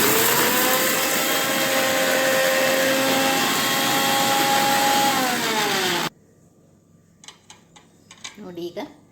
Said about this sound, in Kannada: ಹಸಿ ಕೊಬ್ಬರಿ ಮತ್ತು ಹಸಿಮೆಣಸಿಕಾಯಿ, ಜೀರಿಗೆ, ಕರಿಬೇವು ಗ್ರೈಂಡ್ ಮಾಡಲಿಕ್ಕೆ ಹಾಕೋಣ.